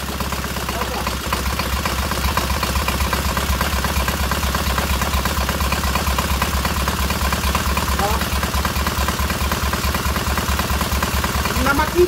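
A freshly rebuilt K750 motorcycle engine idles steadily without throttle, a loud, close, even low-pitched chugging throughout, with someone talking faintly over it.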